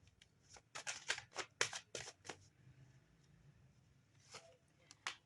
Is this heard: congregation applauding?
no